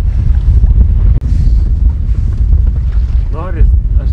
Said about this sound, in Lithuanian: Labai didelis vėjas